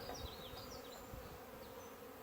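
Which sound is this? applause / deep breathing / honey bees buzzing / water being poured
honey bees buzzing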